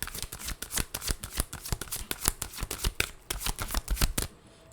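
Tarot cards are riffled and shuffled up close in a rapid, crisp flurry of slapping and fluttering that runs continuously for several seconds before stopping abruptly.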